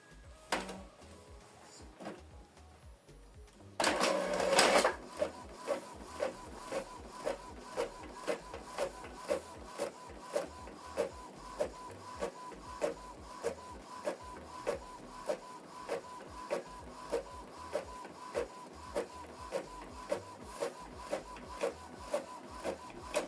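An Epson EcoTank ET-2876 inkjet printer starts up with a loud mechanical whir, then prints a document with steady, evenly spaced clicks and clacks from the print head shuttling back and forth.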